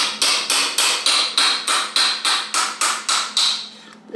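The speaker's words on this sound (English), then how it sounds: "I'm just going to tap on it with a hammer" A hammer strikes a wrench on a vintage bike's tight bottom bracket in a steady series of about thirteen sharp, ringing taps, evenly spaced and close, with no other sound around them.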